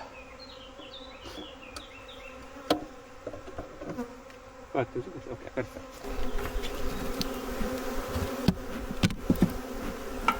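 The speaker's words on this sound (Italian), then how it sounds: "Il fumo serve a stordire un po' le api, altrimenti sarebbe un attacco continuo." Honey bees buzz continuously around an opened, smoked beehive, a dense close droning swarm with a few louder passes near the microphone, while someone speaks briefly and equipment is handled.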